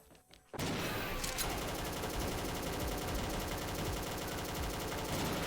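Continuous rapid-fire gunfire from a real gun in the shooting game XSHOT bursts in after a brief quiet moment and hammers on loud and unbroken to the end.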